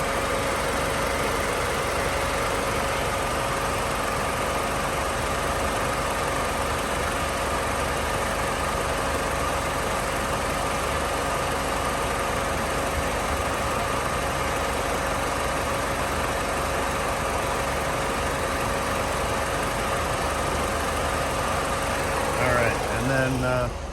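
A 2005 Chrysler PT Cruiser engine idles steadily with a constant hum and a faint steady whine, close and alone, with a brief rattle near the end.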